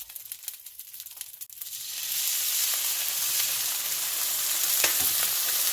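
Fish cake pieces fry in a teaspoon of oil with soy sauce, the sizzle swelling after a couple of seconds of faint light clatter into a steady, close hiss with occasional stirring scrapes.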